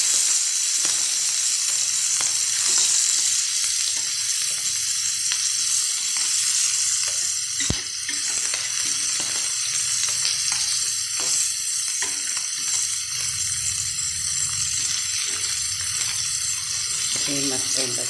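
Fish frying in a home kitchen pan, a continuous close sizzle with occasional stirring scrapes and one sharp click partway through.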